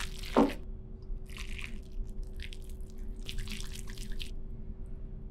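Ground meat with garlic, za'atar, black pepper, allspice and paprika is kneaded by hand, giving soft, wet squishing bursts close by over a quiet background.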